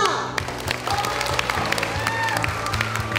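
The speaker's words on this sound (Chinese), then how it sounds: "是不是该先来个掌声加尖叫？" An audience claps in a sustained burst of applause at the opening ceremony of a high school curriculum expo, a dense crackle of many hands filling the hall.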